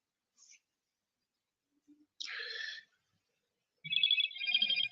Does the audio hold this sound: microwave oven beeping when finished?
no